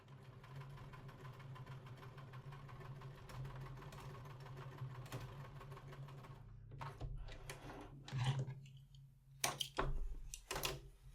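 A sewing machine stitches a hem on a pair of shorts, running as a steady close mechanical whir for several seconds, then stopping into quieter clicks and handling noises.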